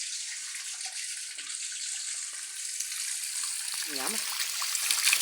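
Spring water from an iron-rich spring in Korytnica trickles and splashes as it is scooped into a cup, a steady watery hiss with a brief gurgle near the end, while a voice speaks briefly.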